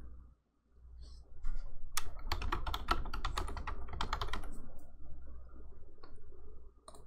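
Fingers type on a computer keyboard in a quick burst of close, crisp key clicks over a low hum, followed by quieter scattered taps.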